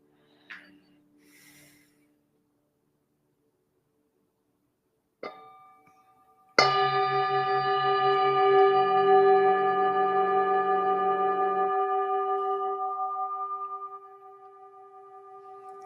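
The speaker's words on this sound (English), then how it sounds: "let's invite the bell and take a few breaths together" A meditation bell is struck once and rings out alone with a clear, sustained tone, its shimmering overtones slowly fading over several seconds in a quiet room.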